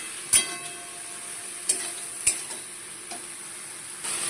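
Ginger and cumin paste sautés in a hot pan with a continuous sizzle, while a utensil scrapes and taps against the metal three or four times.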